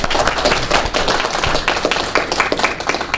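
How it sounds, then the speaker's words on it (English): A crowd claps loudly and steadily for a placing chef at a live Bon Appétit cooking competition event in 2015, with busy overlapping hand claps and a few sharper close slaps throughout. "Round of applause."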